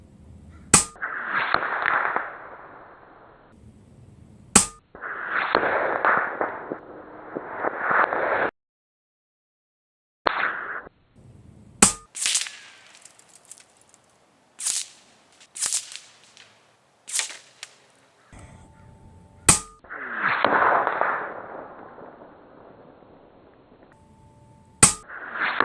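Sharp, isolated shots from a Taipan Veteran Long .25 air rifle punch through candy packet targets, each crisp crack standing alone amid quiet pauses and faint handling noise, with about a dozen shots spaced irregularly.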